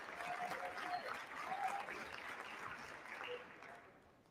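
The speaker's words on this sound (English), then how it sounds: "Brad was applauding for Hakeem Jeffries" Members of the House of Representatives applaud on the chamber floor during a roll-call vote for Speaker, a steady wash of crowd clapping that fades slightly toward the end.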